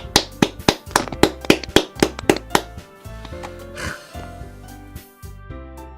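Applause in the visual novel game Doki Doki Blue Skies, a quick run of sharp handclaps over a music bed, ending after a few seconds as the music continues.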